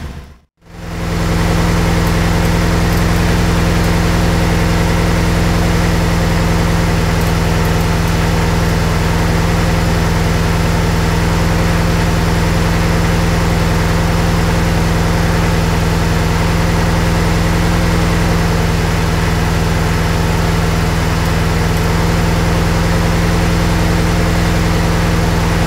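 A Megasquirt-tuned car engine idles loudly and steadily up close during warm-up, with a constant low rumble and droning hum that holds unchanged after a brief start at the opening.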